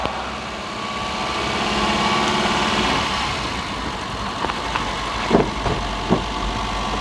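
A Suzuki Carry running on LPG, shaking and overheating and unwilling to rev, drones steadily at idle, a continuous mid-pitched engine hum with a few brief knocks and rattles near the end.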